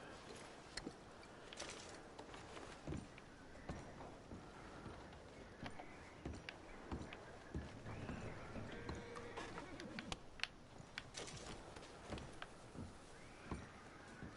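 Horses in Red Dead Redemption II clop and shift around a homestead while packs are loaded onto them. Scattered hoof knocks and rustling stay faint and nearby beneath ongoing talk.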